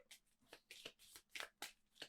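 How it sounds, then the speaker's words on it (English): A deck of board game cards being shuffled by hand, heard as a run of about eight crisp riffling bursts in an uneven rhythm, close and fairly quiet with no talk. "And I will just turn away and shuffle."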